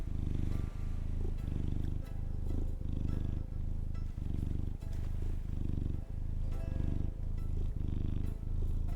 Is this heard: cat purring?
yes